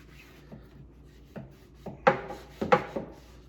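A rag wrapped around a 5-in-1 painter's tool rubs into the corner of a ready-to-assemble wall cabinet, giving several short scraping strokes that start soft and grow louder and rougher toward the end, close by.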